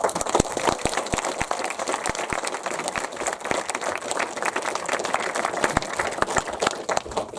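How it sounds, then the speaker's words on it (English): An audience at a horror film festival talk claps steadily, a moderately loud mass of overlapping hand claps with sharper individual claps standing out, sustained without a break. "please everyone give a massive round of applause"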